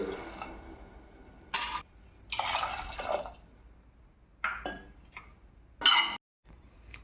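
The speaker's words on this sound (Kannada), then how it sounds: "ಅದಕ್ಕೆ ಈಗ 2 ಕಪ್ಪು ನೀರು ಹಾಕೋತೀವಿ ನೋಡ್ರಿ" Two cups of water are poured in short bursts into a pot of red lentils, splashing and filling with gaps of quiet between pours and small drips.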